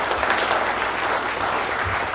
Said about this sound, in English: Let's give another round of applause for these amazing players.